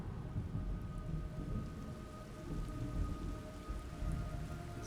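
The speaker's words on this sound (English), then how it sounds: "It's raining blood." In the Metal Gear Solid Delta: Snake Eater video game, steady blood rain hisses down with low, rolling thunder rumbling underneath, a constant soft wash of falling drops without any talking.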